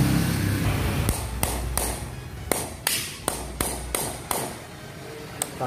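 A hammer taps cable clamps into place along wiring while an electrical outlet is being reinstalled. About a dozen sharp, close, fairly loud knocks come at an irregular pace over a low background hum.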